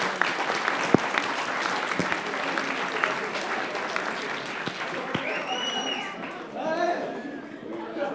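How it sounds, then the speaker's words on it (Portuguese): Audience applause at a physics tournament final fills the room, steady clapping from many hands throughout, with crowd chatter and a few voices rising near the end. "Vamos aplaudir."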